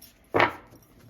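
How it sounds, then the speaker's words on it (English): A single quick riffle of a tarot card deck being shuffled, a short close papery burst lasting about a quarter second, then quiet room tone. "I'm going to shuffle one time, cut the cards"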